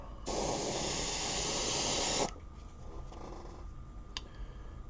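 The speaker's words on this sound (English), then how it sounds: "Masking that front, spraying the rest." An airbrush sprays paint onto a Thunderbolt fighter model in one steady, close hiss lasting about two seconds. It cuts off abruptly, leaving faint background noise and a small click.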